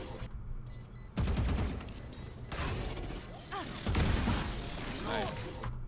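Raze's swarm grenades in Valorant go off as a loud burst of crackling, rattling detonations lasting several seconds, with a second cluster of pops following shortly after amid game noise and faint voice chat.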